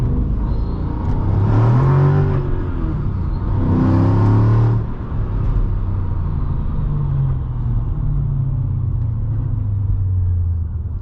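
A 2006 Mercedes-Benz E55 AMG W211 engine under way, loud and close, with two strong rising revs early on that settle into a steady, deep, rumbling cruise drone with a slight header vibration.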